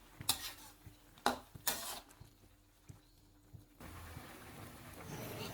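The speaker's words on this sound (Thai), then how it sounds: "ผัดให้ทุกอย่างเข้ากันให้หมดเลยครับ" Jackfruit curry with cartilage is stir-fried in a pan, with a few sharp clinks of a utensil scraping and tapping the pan, followed by a soft, steady sizzle, all fairly quiet.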